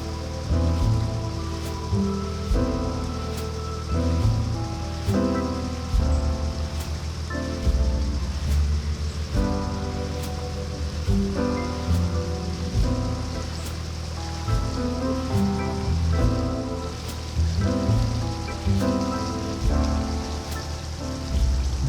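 Steady rain patters on a narrowboat during a canal journey, a dense, even drumming with irregular louder drips on a hard surface close by, continuous throughout with no speech.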